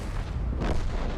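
Deep, heavy boom of a WZ light tank's 100mm cannon in World of Tanks, a single loud close blast with a rumbling tail.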